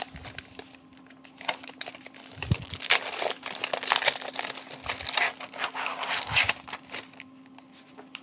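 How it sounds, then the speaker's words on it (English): Sterile plastic bag holding a laser hand probe being torn open and handled, irregular crinkling and crackling bursts of plastic close up, with a faint steady hum beneath and no speech. "Open the bag"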